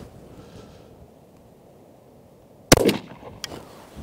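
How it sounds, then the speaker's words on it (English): A FAIR Iside EM shotgun fires a single driven grouse cartridge through half choke at about 30 yards outdoors: one sharp, loud blast after quiet wind noise, followed by a short decaying echo and a small clack. "So let's go ahead and shoot the driven grouse first"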